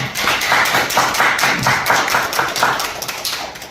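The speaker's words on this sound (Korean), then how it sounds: "박수로 한번 환영해 주시기" An audience claps together to welcome a lecturer at a talk, a dense, steady burst of applause from a group that carries on for several seconds and thins toward the end.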